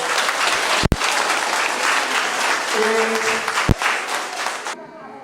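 A church congregation claps together in sustained, dense applause for about four and a half seconds, with a loud thump partway through, before it stops abruptly.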